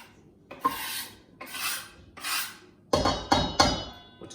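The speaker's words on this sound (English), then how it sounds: "Let's give those an extra chop up" A knife chops leek greens on a board in several rasping strokes, slower swishing cuts first and then quicker, sharper chops, close and clear.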